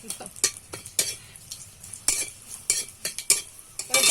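Green chillies frying in hot oil for a dhokla tempering, sharp popping crackles and spatters bursting irregularly over a low sizzle, close and fairly loud with no voices.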